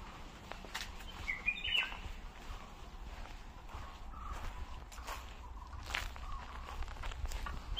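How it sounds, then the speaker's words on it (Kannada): Birds chirp in short, faint bursts around a poet's rural house in Mudigere, with footsteps and a soft outdoor background. "ಪಕ್ಷಿ ಆ ಕಪ್ಪೆ ಸೌಂಡು, ಪಕ್ಷಿಗಳು ಮಾಡೋಂಥ ಸೌಂಡು ಸೂಪರ್"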